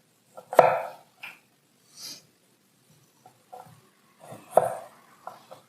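A kitchen knife cuts a peeled turnip into quarters on a board, making several crisp, separate chops and taps spread unevenly across a quiet background.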